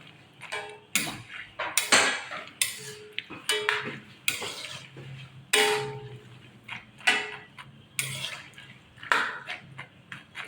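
Dry adobong mani peanuts being stirred in a pan, with repeated scraping, rattling strokes at an irregular rhythm, close and fairly loud, and no talk.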